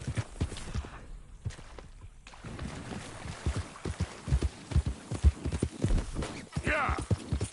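Horse hooves clip-clop at a steady riding pace in the Red Dead Redemption 2 video game, a rhythmic run of close, soft thuds that continues throughout under faint background sound.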